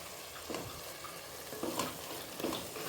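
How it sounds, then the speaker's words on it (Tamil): Mixed vegetables sautéing in a pan for Tamil-style vegetable rice: a soft steady sizzle with occasional scraping stirs of a spoon, fairly quiet and close, no voices. "இப்போ எல்லாமே சேர்த்து நல்லா வதக்கிக்கலாம்."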